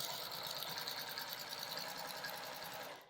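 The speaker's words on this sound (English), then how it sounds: "So I'm going to keep quilting like this in each segment." A sewing machine stitches quilting lines across a charm pack quilt, giving a fast, steady mechanical whir with a rhythmic needle patter. It is heard close and alone, then winds down at the end.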